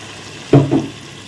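Ginger garlic paste hits a hot pan of vegetable biryani base with mint, giving a sudden short sizzle and stirring scrape that fades after about half a second, close and fairly loud, with no talking.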